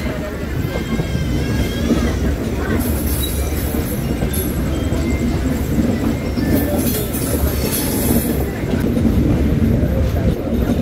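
A passenger train rolls onto the Gudur line after leaving Renigunta, its wheels rumbling and clacking steadily over the track, heard loud and close from on board, with faint high squeals and a voice speaking now and then.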